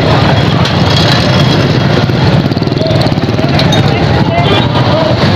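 A motorbike engine drones loud and constant while riding one-handed through a busy bazaar, with street noise and passing voices mixed in.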